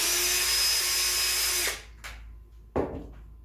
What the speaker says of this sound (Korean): 목재에 먼저 드릴링 한 다음에, 그리고는 탭으로 가공을 해서, 자, 이렇게 탭을 가공을 합니다